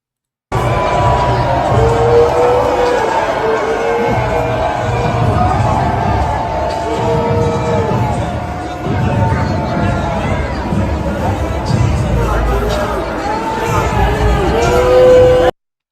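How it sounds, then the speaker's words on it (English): A stadium crowd at a Clemson–South Carolina football game boos and heckles Trump. Sustained shouting, whoops and babble from many voices fill the air throughout. "Check out Trump getting booed and heckled by the crowd of people in the stadium for the Clemson SC football game"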